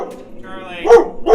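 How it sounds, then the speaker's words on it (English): A dog barks twice near the end, loud and close, following a stretch of talk and a sustained tonal sound, outdoors beside an old ski boat being worked on. "Get your attack dog off."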